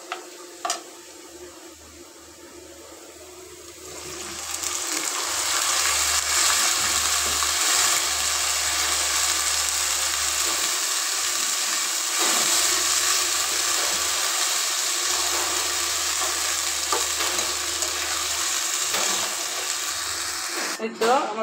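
Rice is tipped into a pot of browned onions for pulao, starting with a few quiet clinks before a loud, steady sizzling hiss fills the rest, with stirring scrapes throughout and no talk.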